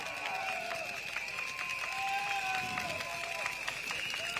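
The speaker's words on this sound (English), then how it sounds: "Please give a round of applause, Mr. Gabriel Lam." A crowd at a PAP election rally for Sembawang GRC in Singapore's 2025 general election claps and cheers for a candidate, a faint, distant patter of many hands with a steady high whine in the background.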